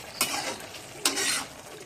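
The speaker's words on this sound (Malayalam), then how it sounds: "ഇനി ഇത് നന്നായിട്ട് ഇളക്കി കൊടുക്കാം നന്നായിട്ട് വറുത്തിയെടുക്കണം" A spoon or spatula stirs beef perattu as it roasts and sizzles in a pan: two distinct scraping strokes sit over a steady, soft frying hiss, heard close with no speech.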